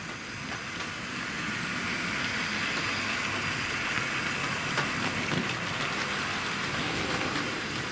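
Hornby model train with a green class 37 locomotive leading a track cleaner, running steadily on the layout with an even, continuous rumbling whir and faint rail clicks throughout, no talk.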